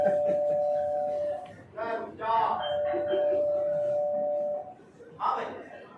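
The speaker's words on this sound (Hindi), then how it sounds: "बाहर बाहर घंटी बजा रहे हो" A doorbell rings with a sustained electronic tone, sounding twice, close by, as voices talk over and between the rings.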